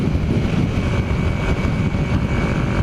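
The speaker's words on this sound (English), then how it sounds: "it feels like a little bit of a falter, sputter on those lower RPMs, on the takeoff" A 1981 Yamaha XS400 motorcycle engine running at low RPM with a faltering, sputtering note, its rough drone rising and dipping unevenly while the bike pulls away.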